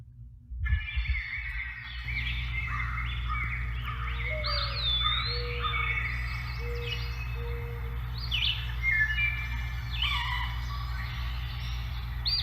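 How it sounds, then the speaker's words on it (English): Several birds sing and chirp in overlapping whistles and trills, continuous and fairly close, over a faint low hum. "I'd like to offer a little bit of bird sound."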